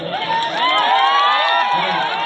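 A large crowd at a live stage show in Patan roars and cheers loudly and continuously, a dense wash of shouting voices with a brief dip before swelling again.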